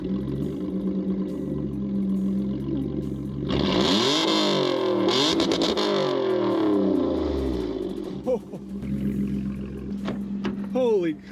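A supercharged Toyota Sienna minivan accelerates hard, its engine and supercharger whine rising loudly from inside the cabin before easing off, with people talking over it at the start and end.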